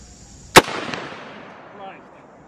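A single sharp bullpup rifle shot fired at a target on a range, loud and close, with a long echoing decay and a faint later report.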